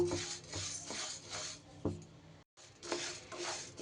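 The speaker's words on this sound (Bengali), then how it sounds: "ডালটা এইভাবে নাড়িয়ে চাড়িয়ে একটু ভাজা ভাজা করে নেব।" Rhythmic scraping and rubbing of a spoon stirring dry lentils roasting in a pan over a low flame, repeated strokes close by, with a short gap partway through.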